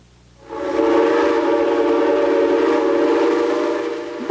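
A train whistle sounds in one long sustained blast after a quiet start, loud and steady with a rich harmonic tone, holding for several seconds.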